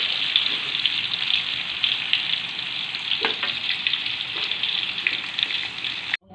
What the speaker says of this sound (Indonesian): Lalu setelah itu saya goreng dulu setengah matang.